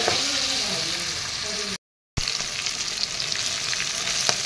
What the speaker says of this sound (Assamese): মাছখিনি এয়া দি দিলোঁ মই দি এনেদৰে তলপৰ কৰি মাছখিনি লৰাই দিলোঁ